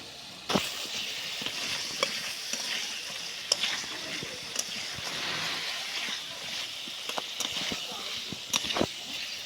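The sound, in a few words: frying potato and pointed gourd in oil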